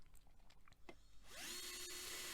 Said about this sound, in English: Taking my handy dandy drill, drilling out these rivets